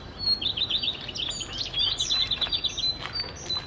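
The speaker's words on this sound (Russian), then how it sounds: "Птички поют." Small birds singing outdoors near a vineyard, rapid repeated high chirps and twittering trills in quick bursts, fairly close and clear over a quiet background.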